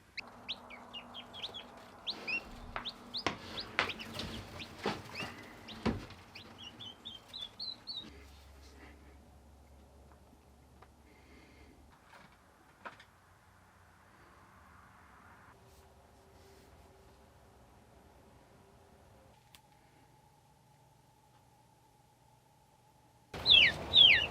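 Bobwhite quail chicks chirp in short high bursts among fowl-like clucks and rustling as they are moved to a brooder, then fall quiet before a loud burst of chirping returns at the end.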